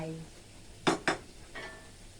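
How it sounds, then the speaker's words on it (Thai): Wide rice noodles with minced chicken and kale stems stir-fried in a pan, two sharp metallic clanks of a spatula against the pan and a softer scrape after, near and clear, with a voice briefly at the start. "ใส่ลงไปแล้วก็ผัดผัดผัด ผัดแบบยายนี่นะ"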